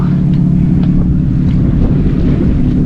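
Strong wind roars steadily across the microphone aboard a sailboat moving at about five knots on flat water off Mount Desert Island, Maine, in late-season sailing, loud and unbroken, with a faint wash of water beneath and no voices.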